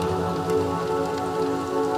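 Steady rain falls onto puddles, a close, even hiss of drops hitting water that carries through unbroken and fairly loud, with no voices.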